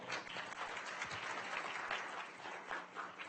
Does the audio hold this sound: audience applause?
yes